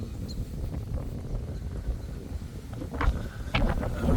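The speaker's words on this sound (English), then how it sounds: "It's quite windy today." Low, steady rumble of wind buffeting a microphone outdoors in Kippax, a Yorkshire village near Leeds, with gusts swelling louder toward the end and no clear voices.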